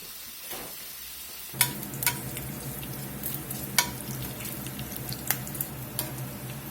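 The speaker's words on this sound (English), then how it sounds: "Get us some bacon in the skillet here and let it start a sizzling." Steady crackling sizzle of bacon frying in a skillet, continuous and close, with a few sharp pops and clicks breaking through.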